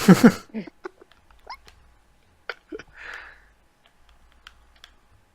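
A cat lets out a loud, close meow at the start, followed by sparse faint clicks and small taps with a soft breathy hiss midway.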